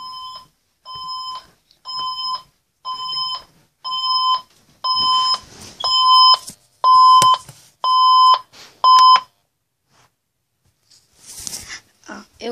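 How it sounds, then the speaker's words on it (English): A loud electronic alarm clock beeps in repeated bursts, about ten pulsing rounds at a steady rhythm, then stops, followed by a brief rustle. "It was her alarm clock."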